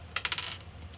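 A deck of Magic: The Gathering cards is shuffled and cut, giving a quick burst of four crisp riffling clicks followed by softer card rustles, close and alone.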